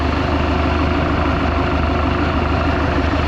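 A 1976 Mercruiser 120hp inboard boat engine, fully warmed up, idles with a steady, loud low rumble and even throb throughout, with no talking.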